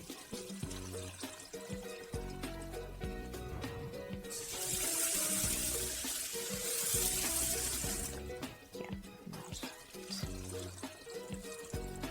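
Running water pours and splashes in a sink for several seconds as rice is rinsed, with softer clinks and handling sounds before and after the flow.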